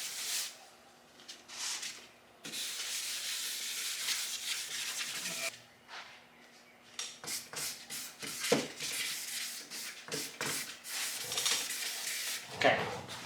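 Compound is rubbed into a car fender with a pad, giving close, uneven bursts of scrubbing friction between short pauses, with no voices.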